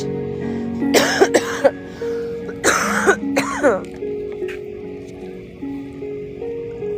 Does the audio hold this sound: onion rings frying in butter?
no